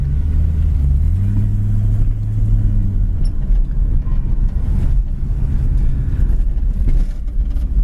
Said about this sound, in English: It just idles so beautifully.